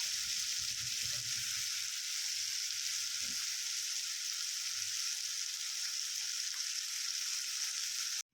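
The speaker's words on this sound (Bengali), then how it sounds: "এখানে ডিম রান্না হচ্ছে" Eggs fry in a pan with a steady, bright sizzle that runs the whole time, with a few low knocks and scrapes early on and no voices.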